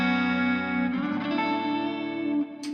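Clean electric guitar chord ringing through a Roland JC120-style amp model with chorus and reverb, a sustained shimmering wash with a light pick attack near the end, no voices.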